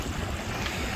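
An open boat without a roof heading out onto the Red Sea: a steady, broadband rush of wind and water noise with engine rumble, continuous and fairly loud for a brief second.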